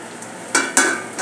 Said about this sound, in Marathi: आता यामध्ये हे बटाटा घालून घेऊया। आपण जो किसून ठेवलेला आहे तो बटाटा घालून घेऊया।